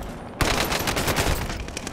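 Rapid bursts of automatic gunfire in Call of Duty: Modern Warfare, loud and close, rattling continuously after a brief quiet start, with the processed crackle of game sound effects.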